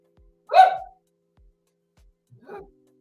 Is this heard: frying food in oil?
no